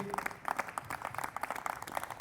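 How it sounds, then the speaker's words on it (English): An audience at a tennis coaching presentation at an international symposium gives a short burst of applause, a dense steady patter of many hands clapping at moderate distance with no voices on top. "A round of applause for Kate and Keith."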